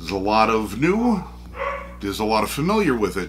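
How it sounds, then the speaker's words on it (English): Dogs bark and yelp in the background of a home while someone talks steadily over them. "You might hear my dogs barking."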